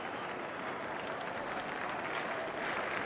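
A stadium crowd at an Australia versus West Indies Test cricket match, 1992-93, claps in a steady, dense wash of applause that runs unbroken and fairly distant for the whole stretch.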